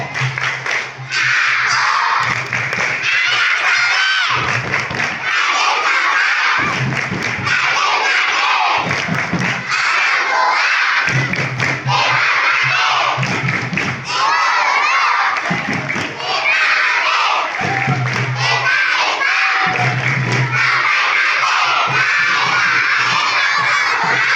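Schoolchildren at an elementary school Maulid Nabi celebration in 2024 clap and chant the Tepuk Anak Soleh clap chant in loud rhythmic bursts separated by short pauses, with a crowd of young voices shouting along.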